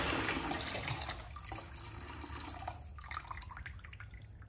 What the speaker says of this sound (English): we're just gonna go ahead and turn the pump on for a brief minute